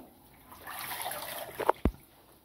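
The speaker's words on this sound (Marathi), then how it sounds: "ही फुलं अशी धुवून घ्यायचे." Water swishing and trickling close by, ending in a couple of quick splashes as hadga (agati) flowers are rinsed.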